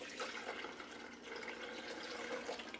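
Water pours steadily into a blender for passion fruit juice, a continuous close splashing rush with no talk.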